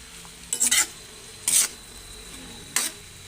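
Lechon paksiw with sayote stirred in a pan, three short bursts of scraping spoon strokes over a faint background sizzle, close and distinct, no voices.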